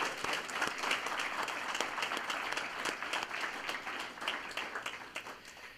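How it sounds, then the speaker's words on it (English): An audience at a sheriff's foundation awards presentation breaks into sustained applause, a dense wash of many hands clapping at moderate volume that tapers slightly toward the end. "How about a round of applause for Andrew,"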